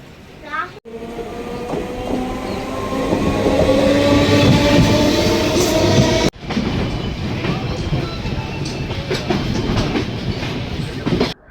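The Thirukkural Express train rumbles steadily along the tracks near Royapuram, Chennai, with a loud, continuous roar and clattering wheels; a brief cut interrupts it before the rolling noise resumes.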